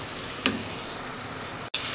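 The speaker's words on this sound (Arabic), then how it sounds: "وهنقلب اللحمة" About a quarter kilo of minced meat fries in a pan with garlic, giving a steady, fairly quiet sizzle throughout, with one brief scrape of stirring and a short break near the end.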